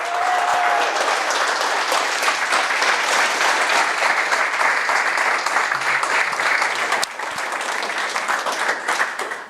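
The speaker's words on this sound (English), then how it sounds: "And I think that alone deserves a round of applause for James Lyndsay." Sustained applause from an audience at a software tester gathering fills the space, dense and even, tapering slightly toward the end.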